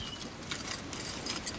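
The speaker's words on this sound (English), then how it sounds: "Oh, I found another set of keys in my pocket." Keys jingle and clink softly in a pocket in short, scattered bursts, close by and fairly quiet, with no talking.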